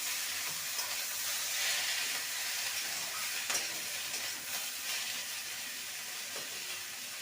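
Cauliflower stalks fry in a pan with already-fried potato and eggplant, giving a loud, steady hissing sizzle with occasional faint stirring clicks throughout.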